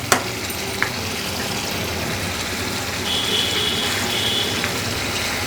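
A katla fish bhuna curry with ground roasted cumin is stirred in a pan on the stove, a steady soft sizzle with brief scrapes, close and alone.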